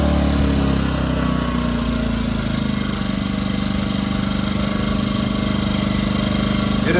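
A portable generator runs in eco mode about five feet away, an even engine hum with a steady low drone that settles slightly after the first couple of seconds.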